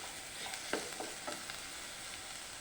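Green chili and sliced onion sauté in a pan, a quiet, even sizzle broken by a handful of light stirring clicks and scrapes.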